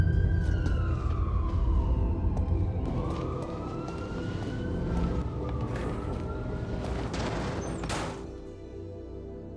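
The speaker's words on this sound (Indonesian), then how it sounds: "Di waktu yang sama terdengar suara sirine polisi" A police siren wails in an action film, its rising and falling tone sweeping steadily over a dense rumble of traffic and background noise, with a sharp burst near the end.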